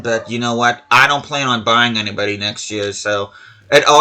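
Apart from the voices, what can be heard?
No everyday noises stand out.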